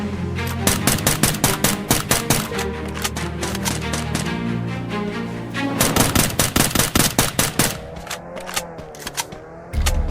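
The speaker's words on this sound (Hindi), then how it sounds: "हमको चारों तरफ से गोलियां पड़ रही थी" Rapid bursts of gunfire crack in quick succession, dense volleys with brief pauses, loud and close, in the punchy style of game combat audio from Free Fire.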